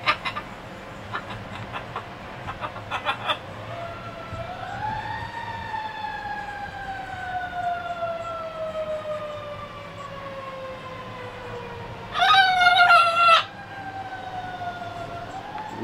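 A pet parrot imitates an ambulance siren with long, slowly falling wails that rise and drop across several seconds, ending in a brief loud squawky burst.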